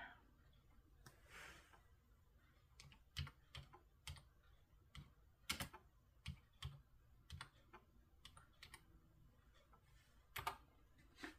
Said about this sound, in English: It's dark in here and I can't see my keyboard.